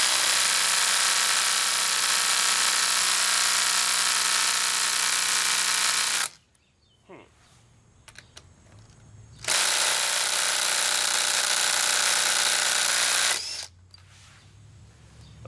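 A cordless impact driver, Makita XDT14 or Ridgid Octane, loosening a fastener, with two long, loud, continuous buzzing bursts separated by quieter gaps of faint handling noise.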